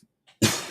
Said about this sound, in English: I still have this cough from like a month ago.